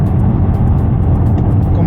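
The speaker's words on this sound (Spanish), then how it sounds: "llevamos el escape Akrapovic, que hace que el coche tenga un sonido, vamos, brutal." A Volkswagen Golf GTI Clubsport 2026 with a 300 hp engine and an Akrapovic exhaust drones steadily from inside the car, a loud, deep, continuous rumble with a voice speaking over it.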